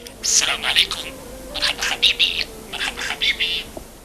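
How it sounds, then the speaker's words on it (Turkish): A small budgerigar chirps and chatters in quick bursts, close up, with rapid high twittering notes and brief pauses between phrases. "Muhabbet kuşu Arapça, Türkçe ve İngilizce olmak üzere üç dilde çeşitli kelimeler de ezberlemiş."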